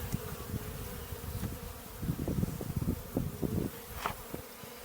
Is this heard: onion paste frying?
no